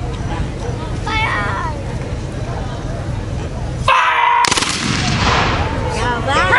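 A volley of rifle fire from a company of soldiers: one sudden massed crack that swells into a loud, ragged burst, preceded and followed by crowd voices and shouting.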